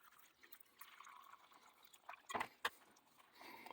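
Water is poured into a rock tumbler barrel holding coarse sand, two rocks and copper and zinc pennies, heard as a faint, brief splashing pour in a quiet room.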